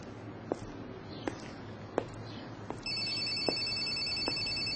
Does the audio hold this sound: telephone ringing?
yes